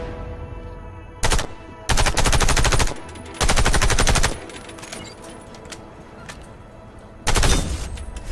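Scoped rifle fire at practice targets in the shooter game Warface, coming in four loud bursts of rapid shots separated by short pauses, with no talk.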